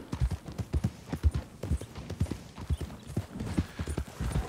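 Horse hooves clip-clop in a steady galloping rhythm while riding through the Heartland oil fields in Red Dead Redemption 2, close and continuous.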